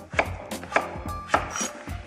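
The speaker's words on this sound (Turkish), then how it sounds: "kenarlarını düzleştirerek düzgün şeritler halinde kesiyorum" Sharp knife chops striking a cutting board, about five evenly spaced cuts through firm pumpkin into strips, close and crisp with no talking.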